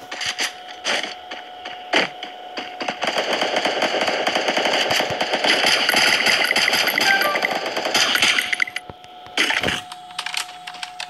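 Rapid automatic gunfire from a solo-versus-solo shooter video game, with long dense bursts of shots close and loud, broken by short gaps and a few single cracks near the start and end.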